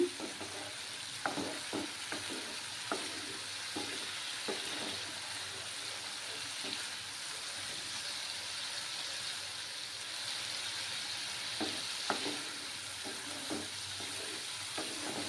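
Onions frying in a pan on the stove over raised heat, a continuous bright sizzle with repeated scraping stirs and occasional light clinks of the utensil against the pan.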